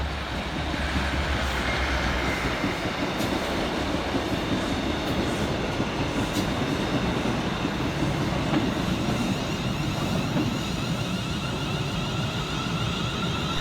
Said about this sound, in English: Also passing on by through the station is 156437 and 156435, working 2J27 for Scotrail from East Kilbride through to Glasgow Central.